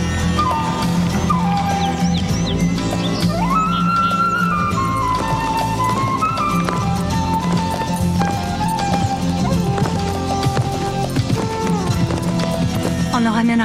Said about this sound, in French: As-tu jamais vu un tel cheval, Nazar?